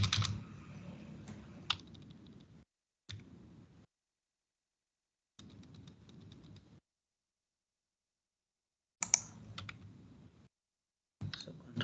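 Computer keyboard typing in bursts, quick clicking keystrokes alternating with silent gaps, close and moderately quiet, no voices.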